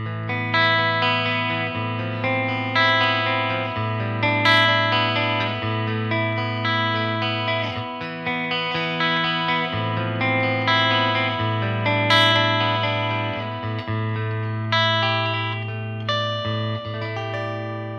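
A Gray Guitars Grayling electric guitar, a T-style and 335 hybrid with Bare Knuckle pickups, played with both pickups on in the middle position: strummed chords and melodic notes ringing out with a mildly driven, effected tone and natural decay, no voices.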